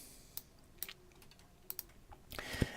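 Computer keyboard keys clatter in a few sparse, quiet taps while typing a search in the Unity editor, ending with a brief louder burst of clicks.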